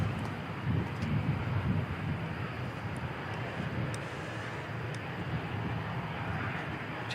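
A distant aircraft engine roars steadily at Christchurch Airport, a broad, constant rumble with wind noise buffeting the microphone and no talking.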